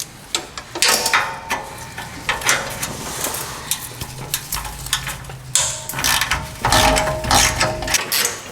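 Ratchet on an extension loosening bolts under a Toyota 4Runner, 5th generation, giving close, sharp clicking bursts in uneven runs with short pauses, fairly loud and alone.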